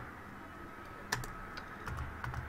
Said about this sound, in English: So let's type